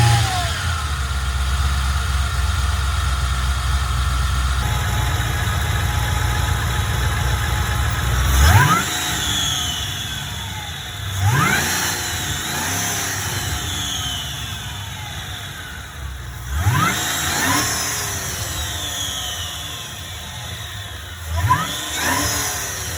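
A supercharged LS3 V8 swapped into a BMW E39 idles steadily in a garage, then blips through several sharp revs that climb and fall back, each burst loud and close, alone without talk.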